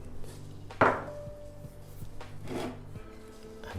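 A spoon stirs a rice salad with beans and herbs in a bowl, giving soft rubbing and scraping strokes, with one sharper clack near the start and a few lighter knocks after it.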